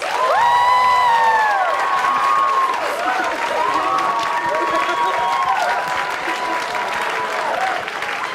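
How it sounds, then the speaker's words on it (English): A round of applause at a museum date-night event, moderate clapping from a small crowd while a few voices call out and chatter over it. "all in favor of Joey's calligraphy, please give her a round of applause"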